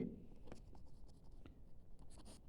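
Marker or chalk scratching on a board during a geometry lecture on triangles, a few short faint strokes in a quiet room.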